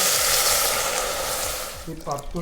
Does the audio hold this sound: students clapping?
no